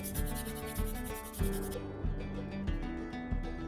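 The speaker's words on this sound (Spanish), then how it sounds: "Incluso podemos pasarle un poquito de lija por encima." Sandpaper scrapes back and forth across a wooden popsicle stick in several firm strokes, close up, with a steady rasping rhythm and no voices.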